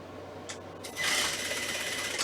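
A sewing machine runs steadily, top-stitching fabric for a Baby Yoda puppet build; a short burst comes first, then a continuous close whir after about a second.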